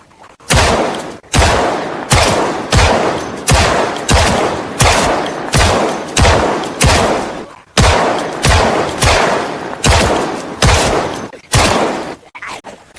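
Video game gunfire: loud, close bursts of shots in a regular rhythm, each burst decaying into the next, about fifteen in a row with a brief gap partway through.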